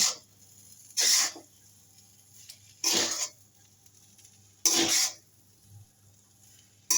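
A utensil stirs chicken noodles and noodle spice mix in a pan in three short, distinct scraping strokes spaced about two seconds apart, with quiet gaps between them.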